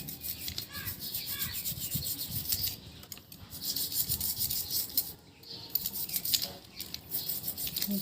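A conch-shell bangle (shakha) being rubbed clean, giving a steady scratchy rasping close by that runs almost continuously, with a couple of brief pauses.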